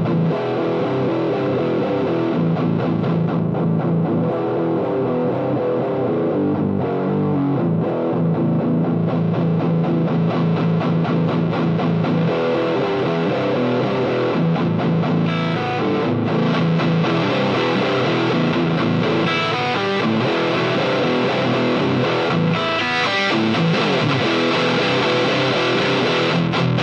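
A heavily distorted electric guitar through a Radial Bones Hollywood distortion pedal plays thick, saturated chords and riffs continuously, loud and dense, with no talking.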